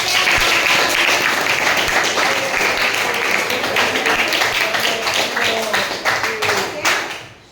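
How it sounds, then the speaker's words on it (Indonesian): Classroom students clapping together after a biology lesson on the digestive system, a dense sustained patter of many hands that fades out toward the end, with faint voices mixed in. "kasih tepuk tangan buat saya"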